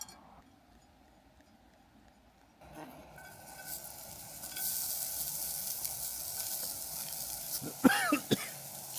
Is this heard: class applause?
no